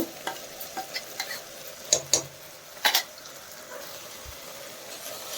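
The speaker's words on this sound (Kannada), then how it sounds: "ಈಗ ಫ್ರೈ ಮಾಡ್ಕೋತಾ ಇದ್ದೀನಿ" Ground mint paste frying in a pan for mint pulao, a soft steady sizzle with a few louder stirring scrapes and clatters, close by and with no talking.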